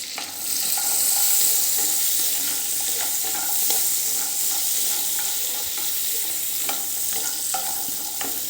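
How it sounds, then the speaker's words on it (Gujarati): Cashews roast in a pan of butter and a little oil, giving a steady soft sizzle with occasional light clicks of stirring. "હવે એની અંદર આપણે અડધો બાઉલ આ કાજુને થોડાક શેકી લઈશું।"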